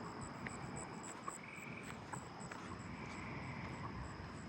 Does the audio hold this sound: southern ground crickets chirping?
yes